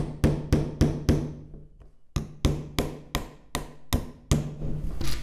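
Large nails are hammered into a fiberboard panel with sharp, ringing blows in quick regular runs of four, then a short pause before another run of six or seven strikes, close and loud.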